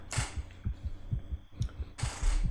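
Heartbeat effect in a horror visual novel game: a steady, low, thudding double-beat pulse repeating about every half second, with bursts of hissing noise layered over it at moments.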